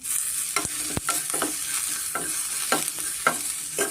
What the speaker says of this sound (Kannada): ಸ್ವಲ್ಪ ಹಸಿಮೆಣ್ಸಿನ್ಕಾಯಿದು ಮತ್ತು ಶುಂಠಿ ಸ್ವಲ್ಪ ರಾಸ್ ಹೋಗಬೇಕು ಅಲ್ಲಿವರೆಗೂ ಸ್ವಲ್ಪ ನಾವು ಫ್ರೈ ಮಾಡ್ಕೊಂಬೋಣ